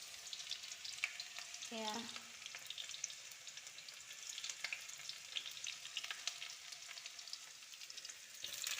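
Green chillies fry in a pan with leafy lai greens and onion, giving a soft, steady sizzle and crackle with occasional stirring clicks, faint and close, while a voice speaks briefly.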